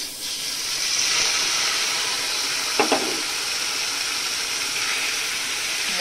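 Spiced paste of ground cumin, garlic, turmeric and chili powder hisses and sizzles steadily after hitting a hot kadai, a broad continuous frying sound with a brief stirring scrape partway through.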